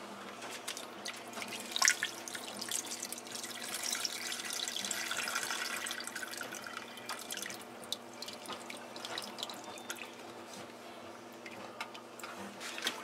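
Tomato juice poured into a pot of chili makes a steady, soft liquid trickle and gurgle with scattered drips and ticks, loudest early on and slowly fading, without talking.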